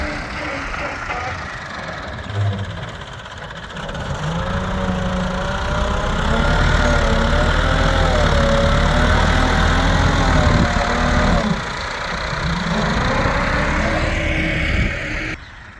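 A tractor pulling a plough through farm soil runs with a steady low engine drone and a faint knock, rising in load midway and easing near the end, while someone talks over it.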